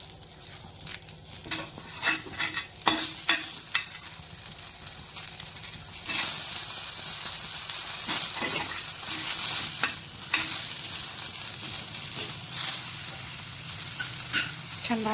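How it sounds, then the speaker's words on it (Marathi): Onion and tomato roast in a pan with a steady soft sizzle, broken by repeated scraping and clattering stirs, moderately close. "त्यानंतर आपण कांदा व टमॅटो पण चांगले भाजून घेणार आहोत."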